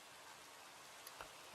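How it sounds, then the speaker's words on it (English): Steady, faint rain hisses evenly in the Minecraft video game, a soft continuous wash with a couple of small drop-like ticks near the end. "And now it's raining."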